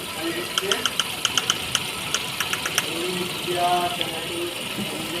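A Hyundai Eon car engine idling with a knocking fault, a steady mechanical running sound marked by sharp periodic ticks and knocks, with someone talking over it.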